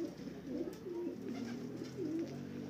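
Pigeons coo in a steady run of soft, rolling calls, fairly close over a constant low background hum, with no one speaking.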